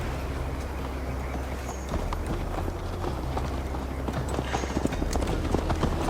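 Horse hooves gallop in a steady, rapid clip-clop rhythm, loud and close, over a low ambient drone, ridden in Assassin's Creed Valhalla on PS4.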